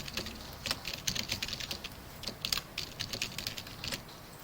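Keys clatter on a computer keyboard in steady bursts of quick clicks, close and fairly crisp, continuing for several seconds with short pauses and no voices.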